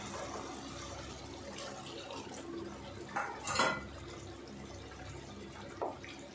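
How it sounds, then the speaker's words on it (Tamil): Water is poured into a potato gravy simmering in a pan, a faint liquid splash with a few soft clinks of a utensil against the pan in a quiet kitchen. "லைட்டாக கொஞ்சம் தண்ணி சேர்த்துக்குவோம்."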